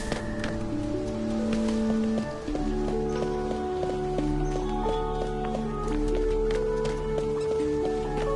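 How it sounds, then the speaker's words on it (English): Raindrops falling in the video game Infinity Nikki, a soft scattering of plips and plops mixed with gentle chiming musical notes and a low ambient drone, steady throughout. "The plips and plops of raindrops are so nice to fall asleep to."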